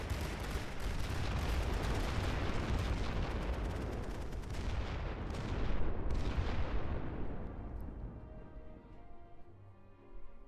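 Dense, continuous battlefield barrage of mortar and artillery fire in the WWI strategy game The Great War: Western Front, a steady rumble of repeated heavy thumps and blasts that slowly thins and fades toward the end.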